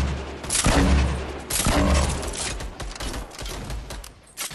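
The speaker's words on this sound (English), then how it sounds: "I'm gonna make one bullet count." Gunfire in the video game Fortnite: a couple of sharp, loud shots near the start, then ragged bursts of firing and clatter that fade toward the end, with no talk.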